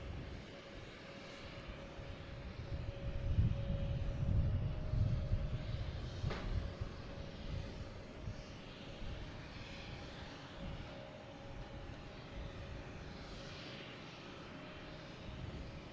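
A JetBlue airliner arriving at Boston Logan from Dallas-Fort Worth makes a faint, distant rumble that swells briefly and then fades into a low, steady engine drone.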